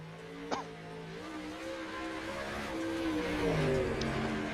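Sim race car from Hales Corners Speedway, number 41 with a pink collar, on a qualifying lap at Cedar Lake, its engine droning with rising and falling pitch as it slides through turns, steady and moderately loud.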